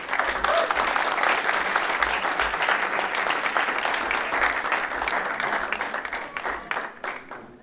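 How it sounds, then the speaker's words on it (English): A university event audience gives a long round of applause, thick sustained clapping from a large crowd that stays loud, then gradually thins and fades toward the end. "Give a huge round of applause to her."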